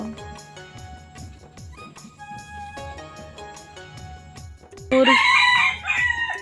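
A rooster crows loudly and close by near the end, a sharp bright call rising over a busy background of music and clatter.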